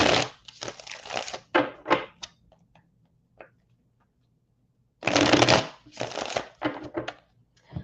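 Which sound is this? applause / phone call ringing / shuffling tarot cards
shuffling tarot cards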